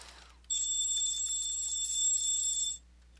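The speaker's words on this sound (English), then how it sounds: "my phone alarm is going off" Phone alarm going off indoors, a bright electronic beeping tone that starts abruptly, rings steadily for about two seconds, then cuts off over quiet background hum.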